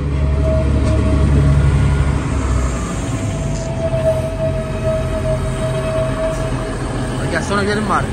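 A train rumbles steadily nearby with a low continuous drone and a sustained tonal whine, while voices chatter over it.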